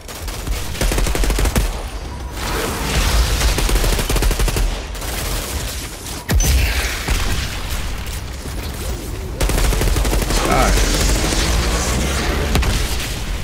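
Grenade blasts and heavy gunfire from the video game Outriders, with loud booms and sustained rapid shooting filling the whole stretch, close and dense, with brief lulls between bursts.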